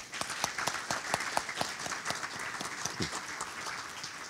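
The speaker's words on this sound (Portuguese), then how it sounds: "eu pediria a todos uma salva de palmas." An audience at a debate on economics, theology and philosophy bursts into sustained applause welcoming a speaker, with crisp individual claps standing out over a dense, even wash of clapping that carries on without talk.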